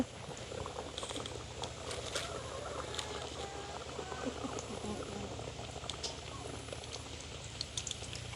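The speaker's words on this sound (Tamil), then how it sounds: "இப்போ நாங்கள் தட்டி எடுத்துக்கிற ரொட்டியை பொரிய போடுவோம்." Hand-patted roti frying in hot oil in a village kitchen gives a steady, soft bubbling and sizzling that carries on without a break at low volume, with a few faint crackles.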